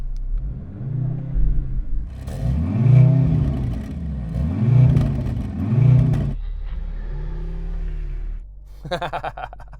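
A sports car engine roars through four or five deep, throaty revs at a standstill, loud and close, settling back to a rumbling idle between blips.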